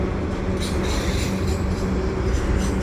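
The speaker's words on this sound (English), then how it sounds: "And that's the end of the train right there." A long CN freight train with four engines rumbles past nearby on the Lachine Canal bridge in a loud, constant roar with faint rhythmic wheel clatter, no voices.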